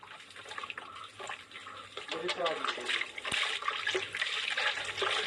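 Water pours steadily into a container as it is mixed for a batch of adulterated milk, a continuous splashing wash under people talking in Hindi.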